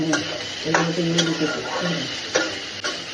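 A home cook stirs chicken curry masala frying in oil in a Kerala kitchen, giving a few scraping spoon strokes against the pan over a soft, steady sizzle, close and moderately loud with no talking.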